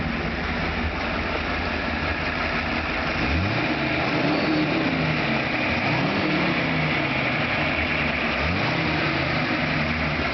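A restored 1929 Stutz Model M Torpedo Speedster engine runs at a steady, loud idle, with a low rumble and a few brief swells in pitch over a constant wash of noise.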